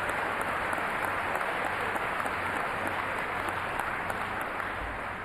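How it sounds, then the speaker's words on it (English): Sustained applause from a large audience at a basketball Hall of Fame induction ceremony, a dense, even wash of clapping that holds steady throughout, heard from within the hall. "Yes, please clap for them."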